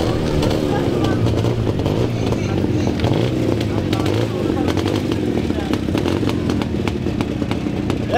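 A vintage motorcycle with 6-volt electrics runs loud and steady during a 1000 km, 24-hour veteran ride, its engine drone continuing under people talking.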